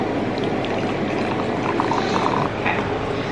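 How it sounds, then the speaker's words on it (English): Hot water is poured into a container to cool it for tea, a steady splashing pour that runs for a few seconds, close and continuous with no talking. "I'm gonna take this water and pour 60 grams of this too"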